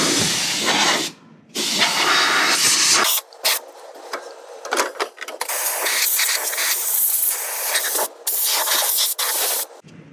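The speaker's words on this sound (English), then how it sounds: "just use some duster for electronics, just compressed air basically, and just get everything" Compressed air duster spray hisses in sharp, loud bursts as it blows out the inside of a toy vending machine, several blasts of varying length separated by short gaps.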